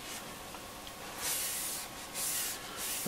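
A cloth rubbing polish onto the case of a Roberts R707 radio, with soft, close hissing strokes in a few back-and-forth passes and no talking.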